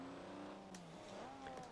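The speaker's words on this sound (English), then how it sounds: "this has actually got a decent car sound" A car engine in Forza Horizon 4 revs up steadily, its pitch climbing and dipping in smooth sweeps, loud and close with no voices.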